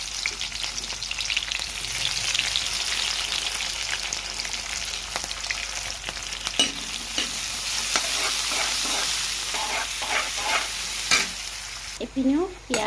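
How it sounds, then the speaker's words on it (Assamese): Onion and green chili sizzle steadily in hot oil for a fish curry, with a continuous loud fry and occasional stirring scrapes and clinks near the end, no voices. "এইপিনে মই তেলখিনি গৰম হ'বলৈ দিলোঁ আৰু ইয়াতে পিঁয়াজ কেঁচা জলকীয়া"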